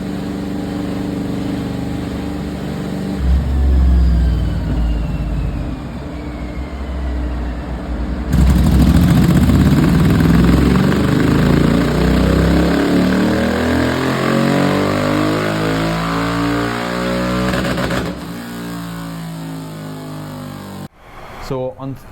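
Royal Enfield GT 650 twin-cylinder motorcycle revving hard on a dyno, engine note climbing steadily for over ten seconds before cutting off, loud and close, with a voice talking over parts of it.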